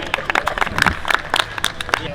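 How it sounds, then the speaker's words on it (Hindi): Scattered clapping from a faculty dinner party audience at a university campus event, uneven bursts of hand claps over about two seconds, moderately loud and fairly close. "ताली होनी चाहिए"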